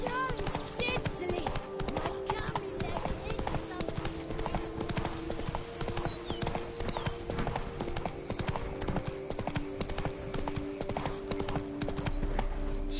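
Geralt's horse Roach trots in The Witcher 3: Blood and Wine, hoofbeats clip-clopping in a quick, even rhythm close by for the whole stretch, with game ambience and some voices underneath.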